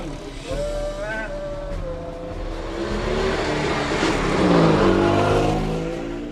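A vintage car engine revs and accelerates during a classic-vehicle race in Český Brod, rising in pitch and growing louder as it passes, with a crowd murmuring in the background.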